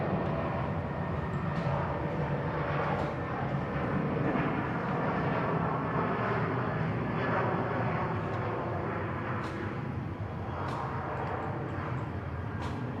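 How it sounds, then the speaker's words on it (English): A Thai Smile Airbus A320 takes off at Bangkok Suvarnabhumi Airport, heard from a distance as a steady, broad engine roar that holds level throughout with little change. "let's enjoy the Thai Smile A320."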